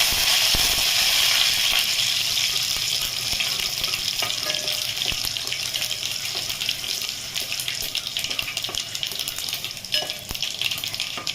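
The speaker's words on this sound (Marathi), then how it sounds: "फोडणी चांगली बसली पाहिजे, आता सरसर आवाज आला पाहिजे।" Mustard seeds, garlic and curry leaves crackling in hot oil for a tomato saar tempering, a loud continuous close sizzle with scattered pops across the whole stretch.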